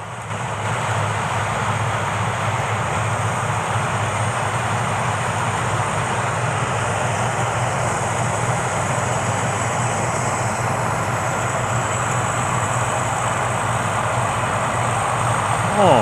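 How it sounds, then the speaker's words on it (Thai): A combine harvester works a rice field, its engine droning loud and steady throughout with a continuous mechanical roar and no breaks. "รถเกี่ยวข้าวครับ อีกคันก็มา ช่วย เกี่ยวข้าวครับ"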